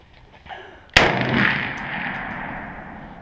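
A single loud, sharp M1 Garand rifle shot cracks out close by outdoors, followed by a long fading echo and a faint metallic ping afterward.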